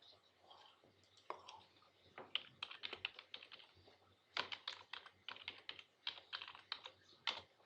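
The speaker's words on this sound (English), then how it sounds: "I'm typing it like you're deaf." Rapid clicking of keys on a computer keyboard, bursts of typing with short pauses between them, close and fairly quiet.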